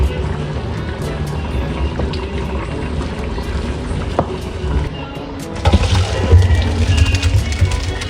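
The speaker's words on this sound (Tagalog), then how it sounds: "Ito po ay akin na pong sasalain" Water poured off cooked basmati rice through a strainer, a rushing liquid splash that swells louder near the end over faint background noise.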